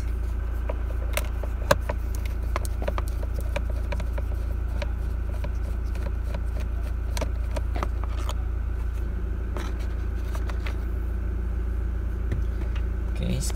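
A Toyota car's engine idles steadily, a low continuous hum beneath scattered clicks and small taps of work being done on the vehicle.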